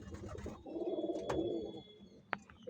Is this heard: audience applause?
no